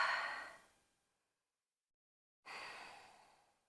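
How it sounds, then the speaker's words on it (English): Two slow, audible breaths during a yoga hip flow, a long exhale that fades out, a pause of silence, then another breath, close and soft. "Breathing here."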